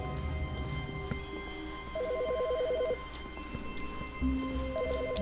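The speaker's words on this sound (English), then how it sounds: "There was a phone ringing." A telephone ringing in The Stanley Parable video game, a faint, warbling electronic trill that sounds in short repeated bursts over a low ambient hum.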